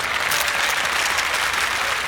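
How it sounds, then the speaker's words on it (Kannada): Audience applause during a Kannada-dubbed film scene: dense, steady clapping from a crowd that fills the whole two seconds at even loudness, with no voices over it. "ಎಲ್ಲರೂ ಚಪ್ಪಾಳೆ ಹೊಡಿತಿದ್ದಾರೆ"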